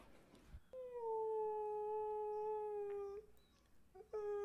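A dog gives a long sustained howl that holds steady for a couple of seconds, then breaks off and starts again briefly, fairly close and alone after a short faint noise.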